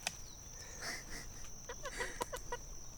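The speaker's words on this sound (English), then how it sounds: "The chickens really add to this experience." Chickens cluck softly and intermittently at a homestead, short faint calls scattered over a quiet outdoor background with a steady high insect-like whine.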